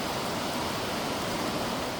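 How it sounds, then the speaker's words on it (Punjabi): Steady, even rain hisses without pause over a farm field during potato harvesting, a dense soft wash of sound with no other noises standing out. "ਮੀਂਹ ਫੇ ਪੈਣ ਲੱਗ ਪਿਆ"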